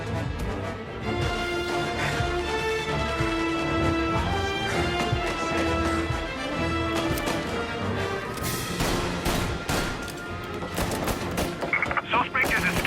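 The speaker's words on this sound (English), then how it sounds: "Gunfire and an explosion reported at the Corleone Hotel." Gunfire in the video game Mafia Definitive Edition at the Corleone Hotel: sharp bursts of shots crack out over a sustained musical score, growing denser and more clustered toward the end.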